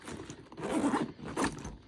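A bag's zipper is pulled open along its main pocket in a couple of quick scraping runs, close and fairly quiet, with no talking.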